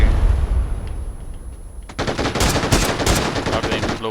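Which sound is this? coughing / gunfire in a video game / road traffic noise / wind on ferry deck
gunfire in a video game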